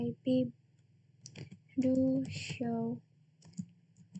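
Keystrokes on a computer keyboard as a command is typed and enter is pressed, a handful of light clicks scattered between stretches of someone speaking.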